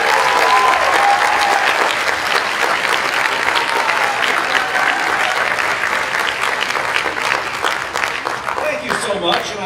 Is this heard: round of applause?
yes